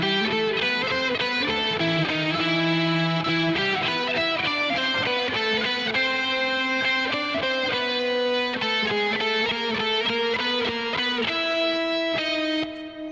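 Distorted electric guitar through a humbucker pickup plays a full, fat recorded song section, with sustained chords and melodic movement at a steady loud level, heard alone.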